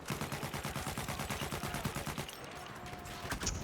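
Rapid automatic gunfire from the World War I shooter Battlefield 1 rattles in a fast, even burst that stops after about two seconds, followed by quieter scattered game sounds and a few isolated shots.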